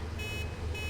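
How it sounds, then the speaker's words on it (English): A vehicle horn in the game Satisfactory sounds as one brief, steady buzzing beep, fairly loud and alone. "Oh, we have a horn. We can beep at them."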